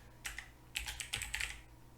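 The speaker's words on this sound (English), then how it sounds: "So let's type that in exactly like we see it." Typing on a computer keyboard while entering a backup job name, heard as several quick bursts of close, light key clicks with short pauses between them and no talking.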